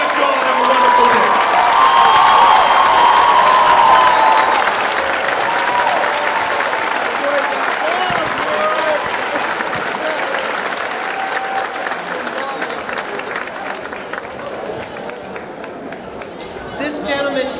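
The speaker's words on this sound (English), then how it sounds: "give another ringing round of applause to the graduating class of 2019" Sustained audience applause at a high school graduation ceremony for the graduating class of 2019, loud and dense at first, then gradually thinning and softening over about eighteen seconds with some crowd noise and shouts mixed in.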